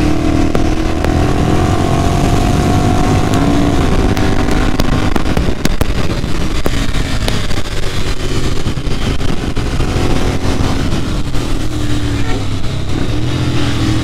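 A Triumph triple-cylinder motorcycle rides at speed, its engine a loud, continuous drone with rising and falling revs beneath heavy wind buffeting.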